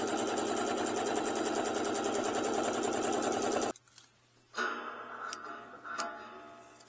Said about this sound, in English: I'm just going to top stitch this pocket